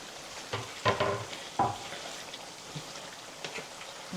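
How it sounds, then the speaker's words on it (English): Onions frying in a pot as the base for an oxtail stew give a soft hiss under a few louder scrapes and taps of stirring, quieter toward the end. "now I'm going to add the onions"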